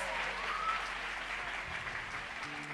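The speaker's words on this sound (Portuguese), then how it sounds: "Aplauda ao Senhor pela vida deles." A church congregation applauds steadily in a worship service celebrating an anniversary, a dense, even wash of clapping held at moderate volume throughout, with a faint voice or tone briefly audible beneath.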